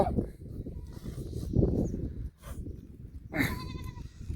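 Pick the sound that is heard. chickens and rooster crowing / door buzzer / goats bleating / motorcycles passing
goats bleating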